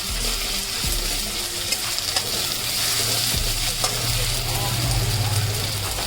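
Onion fries in oil with ginger and garlic paste added, a loud, dense, continuous sizzle with occasional spatula scrapes, heard up close with a faint low hum beneath and no talking.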